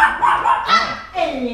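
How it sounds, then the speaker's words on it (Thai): A dog kept in a cage inside a home office barks excitedly at people, a few loud close yips and barks with a whiny edge, wanting to play. "เวลาอยู่ในกรงแล้วมันเห็นคนมันจะเห่าแบบมันจะอยากเล่นด้วย"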